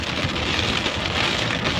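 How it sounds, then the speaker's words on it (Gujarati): Heavy late-monsoon rain pours from dark clouds in Gujarat, a loud, steady wash of large drops drumming on surfaces with a low rumbling undertone, brief and unbroken. "કાળા ડિબાંગ વાદળો છે, કડાકા ભડાકા સાથે વરસાદ વરસી રહ્યો છે"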